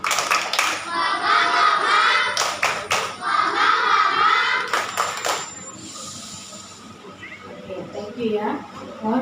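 Hands clap in scattered clusters during a Christmas Eve church service at HKBP, mixed with voices leading the group, the claps near and sharp, then thinning into quieter room sound.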